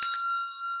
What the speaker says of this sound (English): You ring the bell, every person comes out.